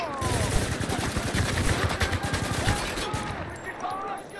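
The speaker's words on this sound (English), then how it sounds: "Taking heavy fire!" Dense gunfire and rapid machine-gun bursts from the video game Spec Ops: The Line, a loud continuous barrage of overlapping shots with faint game voices beneath.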